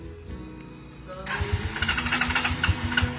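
A Rusi Macho 150 motorcycle starts by remote auto-start: a faint beep from the alarm, then the engine catches and settles into a steady, close, rhythmic idle with no one speaking.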